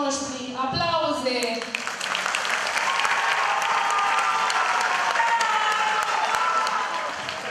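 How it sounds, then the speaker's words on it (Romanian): Loud, continuous applause and cheering from the audience at a high school freshman ball, with a voice speaking over the opening second before the clapping fills the room. "Aplauze!"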